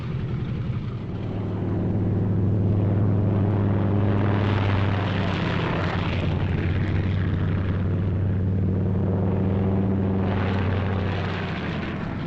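Several WWII fighter planes with piston engines and propellers take off in pairs, element leader and wingman together. A loud, steady engine drone swells and holds, then fades slightly toward the end, with no speech.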